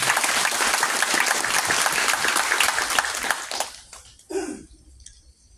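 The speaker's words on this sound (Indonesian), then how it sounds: "Tepuk tangan untuk dia." Loud, dense audience applause for a violinist at a poetry reading event, sustained hand-clapping that dies away after about four seconds, followed by a brief thump and quiet.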